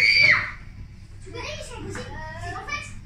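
Children scream loudly in a short burst at the start, followed by overlapping high-pitched kids' voices and chatter, close to the microphone.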